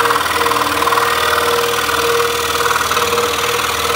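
A scroll saw runs steadily while cutting a 3D wood project with a thin blade, a loud continuous buzzing vibration with a fast even rhythm and no pauses.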